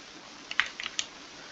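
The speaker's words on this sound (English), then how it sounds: "we are actually just going to type in seat" Several quiet keystrokes are tapped on a computer keyboard during a Stormworks boat-building game session. A few separate clicks come over faint room hiss.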